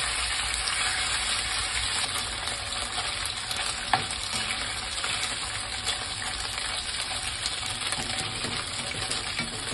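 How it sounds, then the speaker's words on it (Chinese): Pork ribs fry over medium heat in a pan with aromatic ginger, a steady dense sizzle running throughout with one brief sharp click near the middle; no talking. "排骨落去喇喎。"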